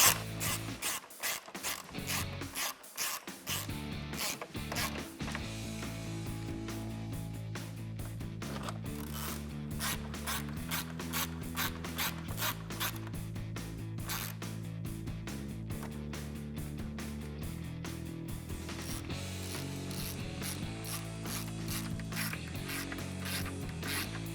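A 10mm socket ratcheting bolts while reinstalling the headlight assembly on a 2018-2020 Ford F150, rapid repeated clicking in continuous runs, close and fairly quiet, no talking.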